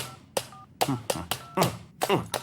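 A telephone keypad gives a fast run of short dialing tones, each pressed quickly after the last, clear and close with short gaps in between.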